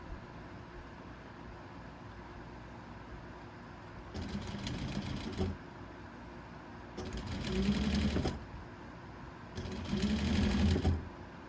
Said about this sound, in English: we're just gonna sew all these pieces